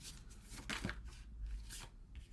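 Tarot cards being shuffled by hand, a quiet papery riffling and slapping in repeated short bursts, close and soft with no voices.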